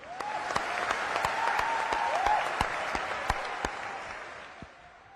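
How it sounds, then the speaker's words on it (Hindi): Audience at the Rajkot Hirasar airport inauguration event gives a sustained burst of dense applause welcoming the Prime Minister, loud and steady with a few sharper claps standing out before it tapers slightly at the end. "प्रधानमंत्री नरेंद्र मोदी जी की तालियों की गड़गड़ाहट से स्वागत करें।"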